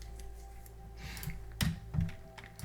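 Keys clatter on a computer keyboard in a few quick bursts of typing, with two louder, heavier strikes near the middle, close and fairly quiet over a steady background hum.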